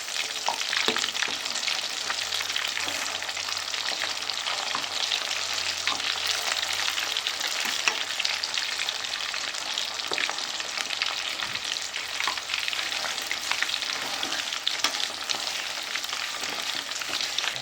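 Fish kebab pieces frying steadily in a hot pan, a dense continuous sizzle with faint crackles and occasional scraping as they are pressed down, close and alone without speech.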